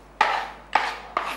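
Eggplant being chopped with a knife, three distinct chops about half a second apart, close and crisp, each with a short fading tail, no talking.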